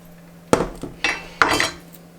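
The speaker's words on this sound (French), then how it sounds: "pour le gingembre, je vais utiliser le pressail en fait dedans" A metal garlic press crushes peeled ginger for a pork and shrimp wonton soup, giving three sharp, close metallic clanks and squeezes, separated by brief pauses, with no talking.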